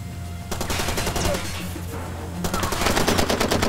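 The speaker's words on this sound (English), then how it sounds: "Who the hell is shooting at me?" Dense bursts of automatic and single gunfire in the Far Cry 2 video game, loud and continuous, with a brief lull before a heavier volley resumes.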